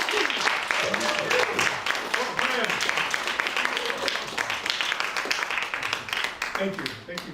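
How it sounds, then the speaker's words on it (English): Sustained crowd applause fills the room at a poetry reading in Chinatown, dense and steady, with a few voices murmuring underneath before it thins out at the end. "Thank you for your kind attention and generous applause."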